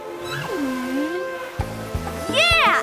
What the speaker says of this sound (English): Yeah, it's a whale!